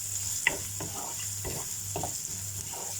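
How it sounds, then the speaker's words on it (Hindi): A medium chopped onion frying in a pan, a constant close sizzle broken by several rhythmic stirring strokes, with no talking. "अब इसको थोड़ा फ्राई करते हैं।"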